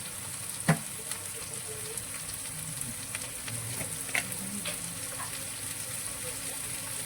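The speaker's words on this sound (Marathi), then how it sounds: "आणि याला आता छान मस्त परतवून घेते" Chopped onion with salt and turmeric sizzles gently in a pan for dosa filling, a soft continuous frying hiss with a few light clicks and stirring scrapes, fairly quiet throughout.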